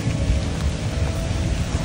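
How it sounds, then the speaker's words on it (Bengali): Steady rain pours at a Kaptai Lake resort in the Rangamati hills, a dense continuous hiss with low rumbling underneath, close and fairly loud throughout with no voices. "আর এখন এই বিদায়বেলা বৃষ্টি শুরু হয়েছে"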